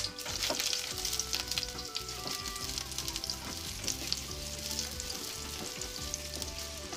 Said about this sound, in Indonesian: panaskan sedikit minyak ya teman-teman, lalu tumis bawang putih dan jahe